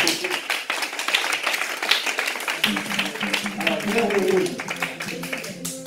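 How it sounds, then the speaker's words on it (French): Church congregation clapping during an evangelism service, a steady dense patter of many hands running throughout with voices talking and calling over it. "On l'applaudit vraiment"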